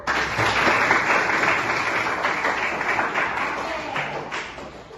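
A classroom group claps hands together in a steady, dense burst of applause that runs the whole time, loud and close, with a slight fade toward the end.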